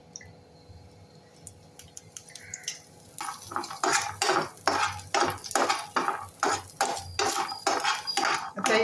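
A spoon stirring dry and fresh grated coconut roasting in a little oil in a pan, with quiet scrapes at first, then steady rhythmic dry scraping strokes, close and fairly loud.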